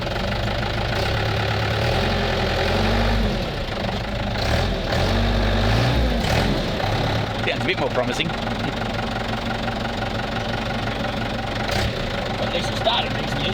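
A truck idles with a rough, knocking rumble after starting, running steadily throughout while people talk nearby over the engine.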